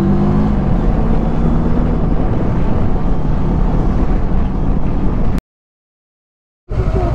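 Steady, loud wind buffets the microphone in a continuous roar, cutting to silence briefly before resuming.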